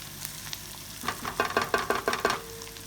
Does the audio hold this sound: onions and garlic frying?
yes